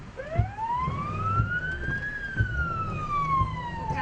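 A storm chasers' vehicle siren wails steadily during a tornado chase in Kansas, its pitch rising then slowly falling, loud and close over rumbling engine noise and a few low thumps.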